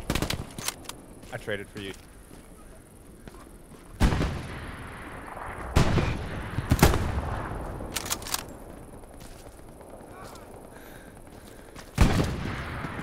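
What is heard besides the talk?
gunfire in Hell Let Loose video game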